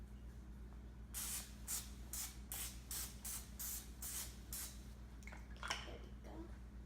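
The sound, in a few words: cooking spray sprayed onto baking pan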